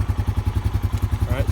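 A 2020 Honda Rubicon ATV engine runs close by with a rapid, even low thump of pulses as it starts and settles into an idle, and a voice is briefly heard near the end.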